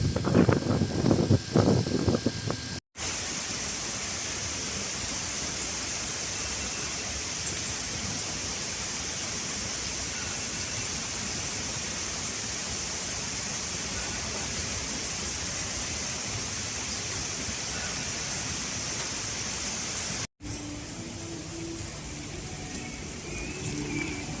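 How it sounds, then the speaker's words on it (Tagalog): Steady, loud broadband roar of Katibawasan Falls on Camiguin island, falling water mixed with rain, continuous and close for most of the stretch, with a brief rougher segment at the start and softer ambience at the end. "So we're here now at our next stop. It's Katibawasan Falls."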